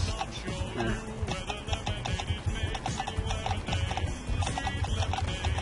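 Horse hooves clip-clop steadily and loudly in the video game Clop, a dense, continuous run of hoof beats with a faint whinny, no talk over it.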